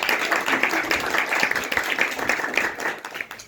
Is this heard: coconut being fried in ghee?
no